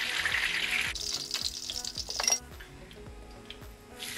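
Chicken pieces sizzling and browning in a frying pan for Caribbean curried chicken, a loud hiss at first that eases off, with repeated soft knocks and scrapes of a utensil against the pan throughout.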